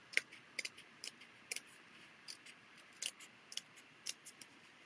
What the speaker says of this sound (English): So I'm just cutting out this middle chunk